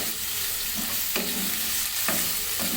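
Boiled vegetables are stir-fried in hot oil for a wedding-style vegetable dish, with a steady loud sizzle and a few scraping stirs of the spatula close by.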